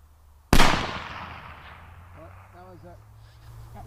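A precision rifle fires a single sharp, loud shot during Palma target shooting, its blast decaying over a second or two, followed by a short burst of voices talking afterward.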